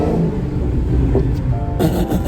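A 2020 Dodge Challenger SRT Hellcat Widebody Redeye engine rumbles loud and close with a steady throaty drone, a thin supercharger whine rising near the end.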